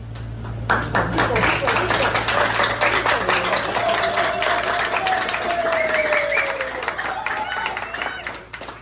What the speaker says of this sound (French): Encore une fois, je vous prie de les applaudir chaudement